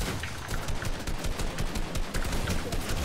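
Rapid gunfire rattles through a video game match, bursts of automatic shots crackling steadily at moderate volume for a few seconds, with no talking over it.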